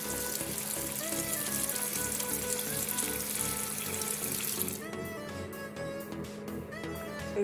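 Tap water runs steadily into a container of hair gel, a loud continuous splashing rush that drops and changes tone near the end as the flow shifts.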